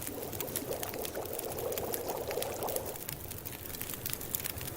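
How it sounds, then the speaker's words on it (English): Water simmering and bubbling over a fire while a liter of melted snow is boiled in The Long Dark survival game, a steady close hiss with a faint bubbling swell that eases off toward the end, with no talking. "I'm going to go ahead and boil that full liter of snow"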